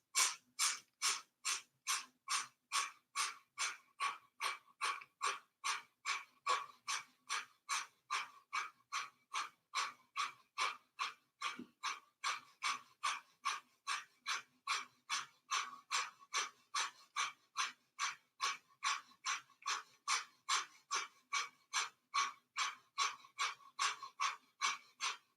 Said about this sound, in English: So that's a rapid exhale through the nose by pumping, snapping your belly back.